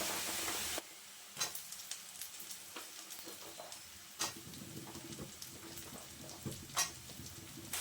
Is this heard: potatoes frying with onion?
yes